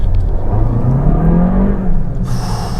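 The two-liter engine of an Audi TT 8S Roadster runs close by, its steady hum rising slightly in pitch, ending with a brief high hiss.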